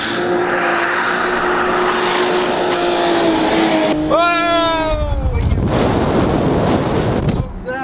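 Toyota Supra drifting with a loud, sustained engine note that rises and falls, tires screeching in squealing bursts partway through, continuous and close with no talking.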